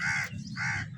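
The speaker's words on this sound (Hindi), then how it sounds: "ऊपर मेरे सारे कौवे फिर रहे हैं" Several crows caw loudly in the open air of a park, two long harsh calls separated by a short gap, with low ambient rumble beneath.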